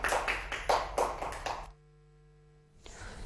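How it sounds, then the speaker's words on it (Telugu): Young children clapping together in a pre-primary classroom during a counting game, a few quick bursts of claps up close, then cutting off into a quiet, humming pause before room noise returns. "క్లాప్స్."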